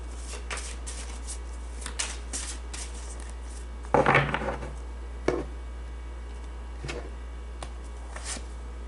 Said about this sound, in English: So I'm going to pull the Vintage Oracle card for them.